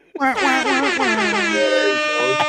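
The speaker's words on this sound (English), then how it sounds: "Jamaican air horn" A blaring Jamaican air horn sound effect, a loud brassy blast with wavering pitch that holds steady for about two seconds.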